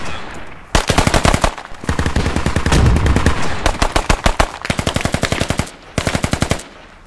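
Heavy automatic gunfire in the Squad video game hammers out in long, rapid bursts, loud and close, with brief gaps between volleys and no talking.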